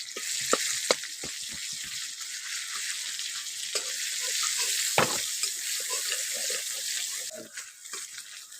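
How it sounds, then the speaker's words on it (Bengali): Chopped onion fries in hot oil with cloves and cardamom for a prawn pulao, a bright, constant sizzle close up, dotted with soft clicks and scrapes from stirring and one sharper knock midway. "পেঁয়াজটাকে একটু ভেজে নেব।"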